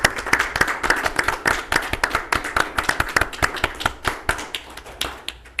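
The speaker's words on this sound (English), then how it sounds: "stand up, applause you guys" Hearty applause from an audience at a township board of trustees meeting, dense rapid hand claps rising and slowly thinning toward the end, close and loud with no speech over it.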